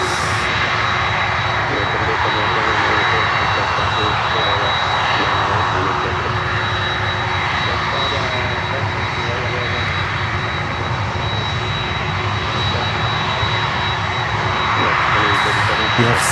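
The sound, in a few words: jet airliner with GE CF6 engines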